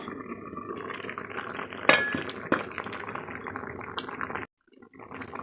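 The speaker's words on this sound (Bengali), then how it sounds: "ঢাকনা দিয়ে দিচ্ছি" A lid goes onto a cooking pot of prawn, ridge gourd and potato curry with a sharp metallic clink over a steady simmering bubble. A second lighter clank follows, and the sound cuts off abruptly near the end.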